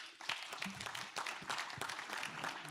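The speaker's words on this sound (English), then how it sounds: "So thanks for the clapping." Audience at a farmers' organisation annual assembly clapping in a dense, steady burst of applause throughout, moderately loud and without speech over it.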